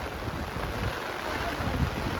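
Wind blows in off the sea during heavy village rain, a steady broadband rushing roar with low buffeting gusts against the microphone, constant and fairly loud, with no talking.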